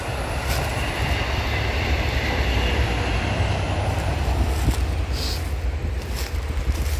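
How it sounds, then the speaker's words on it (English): A train rumbles past at a steady, continuous roar, with a low heavy drone and faint high squeals from the wheels. "Oh, there's the train, see?"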